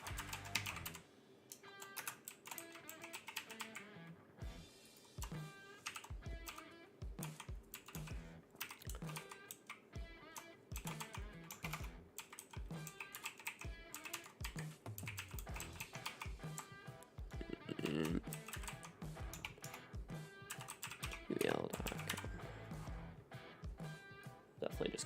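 Rapid clatter of keystrokes on a computer keyboard, typed in quick bursts close to the mic, layered over steady game sound with voices heard at times.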